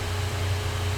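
Steady electrical hum and hiss from TIG welding 20 gauge mild steel sheet metal, a constant low buzz with broadband crackle, close and even throughout, no talking.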